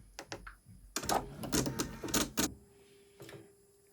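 A home embroidery machine stitches a design at close range, its needle bursts coming as rapid mechanical clatter in short runs, the loudest stretch lasting about a second and a half.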